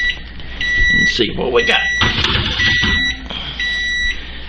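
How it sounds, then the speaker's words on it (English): A kitchen timer signals a baked pie crust is done with steady repeated high-pitched beeps in pulses, running under a person talking close by. "The timer's gone off."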